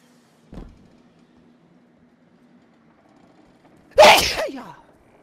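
A single loud, sharp sneeze bursts out close by after a long stretch of near silence broken only by one faint earlier click.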